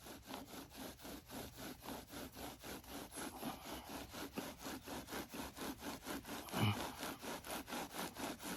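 A wooden spindle is drilled back and forth against a fireboard during a primitive friction-fire burn-in, producing a steady, rhythmic rasping stroke about every third of a second, faint but continuous.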